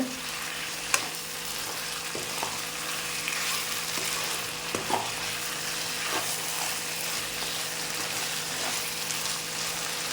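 Chicken fry in a pan gives a continuous soft sizzle of frying in oil, with occasional light scrapes and taps of a spoon stirring, steady and close with no voices.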